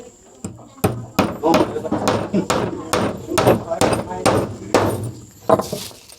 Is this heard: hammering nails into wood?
yes